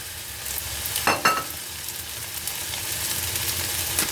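Vegetarian fried rice stir-fried in a pan with sesame oil, soy sauce and cashews gives a steady, close sizzle, with a couple of brief scraping clatters near the start and no talking.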